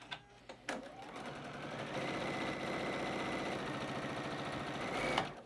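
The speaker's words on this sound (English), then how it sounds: "So flop one over, and now I'm going to sew one on. I'm not even going to leave the machine." A sewing machine runs steadily for several seconds, joining fabric squares in a batik quilt block; a few brief clicks open the clip, then the motor hums and chatters on at an even pace before stopping.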